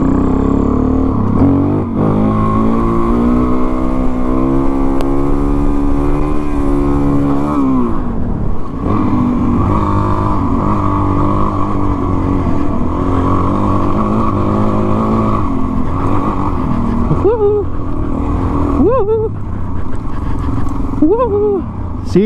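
A dual sport motorcycle cruises around empty lots, its engine droning steadily and loudly up close with changing revs as the rider shifts and accelerates.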